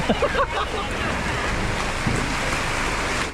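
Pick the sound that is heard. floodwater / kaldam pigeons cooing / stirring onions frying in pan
floodwater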